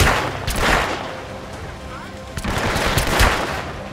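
Gunfire in the stealth game Hitman Absolution, several loud bursts of shots in quick clusters with a quieter stretch between, mixed with game noise and some talk.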